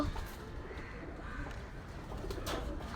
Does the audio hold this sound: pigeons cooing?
yes